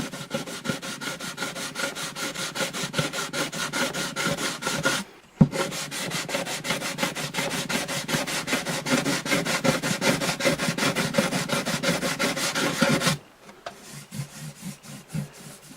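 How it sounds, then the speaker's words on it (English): Fine sandpaper rubbed steadily over a rosewood guitar bridge on an Alvarez Artist AD65 acoustic, a close, continuous scratchy sanding sound with two brief pauses. "I want to go with a finer sandpaper and dress that up a little bit"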